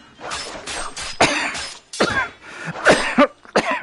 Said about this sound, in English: What's up with me coughing today?